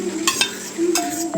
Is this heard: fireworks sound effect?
no